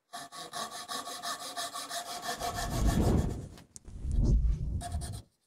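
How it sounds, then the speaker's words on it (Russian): A Japanese pull saw cuts steadily through wood on the pull stroke in rapid, even rasping strokes, close and loud, briefly pausing before a final burst of cutting. "Наша с вами задача вести пилу на себя, так как это пила японского типа"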